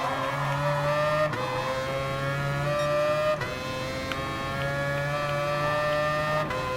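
Race cars lapping in Gran Turismo Sport, including a Mazda RX Vision GT3 concept chasing a Porsche 911 RSR, give a loud steady high-pitched engine drone. Gear changes come every second or two and a layered pack of cars runs throughout.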